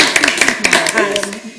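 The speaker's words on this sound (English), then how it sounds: "I feel like we should clap." A brief burst of hand clapping from a small group at a library board meeting, with people talking over it.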